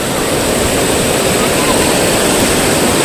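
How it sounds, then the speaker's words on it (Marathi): Loud, constant roar of sea surf crashing nearby at Anjarle beach in Konkan, a thick unbroken wash of noise with no voices. "बघू शकता समुद्राचे लाटा बघा किती आहेत, मोठ्या मोठ्या पुढे येतात तिकडं"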